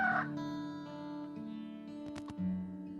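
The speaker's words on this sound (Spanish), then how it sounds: "se escuchó cómo cantaba un gallo" A rooster crows in a long, drawn-out call set against sustained musical tones, part of a Way of the Cross retelling.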